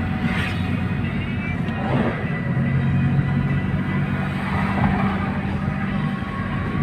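An Isuzu D-Max driving on a highway in Isabela province, its engine a steady low rumble with road and wind noise, constant and close throughout without speech.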